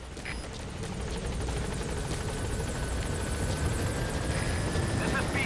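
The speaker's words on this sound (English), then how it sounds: "where's the helicopter?" A helicopter approaches in the Metal Gear Solid V: The Phantom Pain video game, its rotor chop thumping steadily and growing louder as it nears, with faint radio chatter over the whirr.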